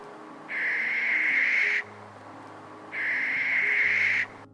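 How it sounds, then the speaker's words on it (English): Barn owl screeches twice, each a long, harsh, hissing shriek lasting over a second, loud and close with a pause between calls. "Unlike tawny owls, which make the famous to-wit-to-woo call, barn owls screech instead."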